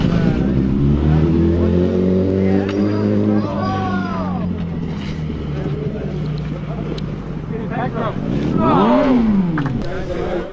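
A motorcycle closes in and rounds a corner, its engine tone rising and falling through gear changes, loud and near, with voices murmuring in the background.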